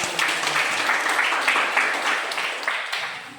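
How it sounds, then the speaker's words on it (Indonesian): Students in a classroom applauding, a lively burst of overlapping hand claps with a slightly pulsing rhythm that holds for a few seconds. "Berikan tepuk tangan."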